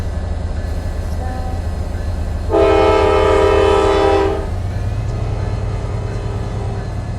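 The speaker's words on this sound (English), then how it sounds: "there's a V-Rail F43. And I'm gonna spawn in the train." A V-Rail F43 train in a Roblox metro train game sounds its horn in one sustained blast of about two seconds over a constant low rumble of running gear, with no talk.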